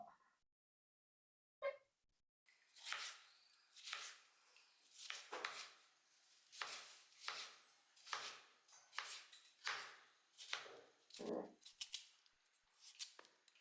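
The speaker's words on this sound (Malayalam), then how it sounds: "ഈ പരുവത്തിൽ അങ്ങനെ നമുക്ക് അവിടെ നുറുക്കിയെടുക്കാം" Vegetables being chopped for a curry on a kitchen cutting board, in a steady run of sharp knife taps that starts after a short silence, close and fairly crisp.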